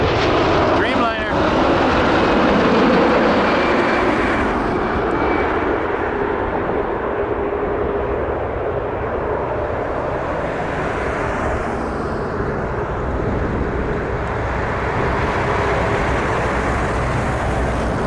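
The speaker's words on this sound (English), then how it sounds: "Dreamliner was coming in from Seoul" A Boeing 787 Dreamliner arriving from Seoul at Toronto Pearson Airport makes a loud, steady jet roar that stays strong throughout, with slight swells in the rushing engine noise.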